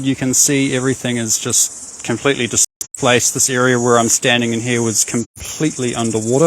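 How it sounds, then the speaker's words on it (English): Cicadas sing outdoors after a massive flood in fine weather, a steady high-pitched buzzing drone that runs continuously beneath someone talking close by. "You can hear the cicadas singing."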